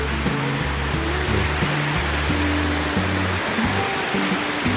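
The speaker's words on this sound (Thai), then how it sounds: "เสียงน้ำตกตาด" A waterfall near Vientiane, Laos, rushing steadily after dark, loud and continuous broadband roar, with low rumbling underneath and no voices.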